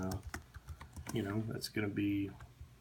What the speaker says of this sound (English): fat finger at the keyboard here.